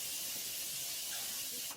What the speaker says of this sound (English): Lock everything in with the Morphe Continuous Mist.